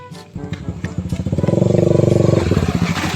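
A motorcycle engine revs up nearby, a rapid throaty putter that builds into a loud buzzing roar and then drops off, heard alone.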